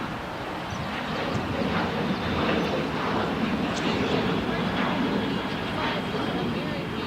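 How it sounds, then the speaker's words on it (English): An American Airlines Boeing 737-800 bound for Austin departs runway 25 at LAX, its jet engines a loud, steady roar that swells slightly, with a faint murmur of voices underneath. "just departing here on the 25 is American 1299 headed to AUS Austin, Texas on a Boeing 737-800"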